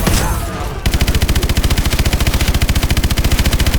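Loud, rapid automatic gunfire from the video game Call of Duty: Advanced Warfare rattles in a fast, regular burst of shots, preceded by a short rushing noise.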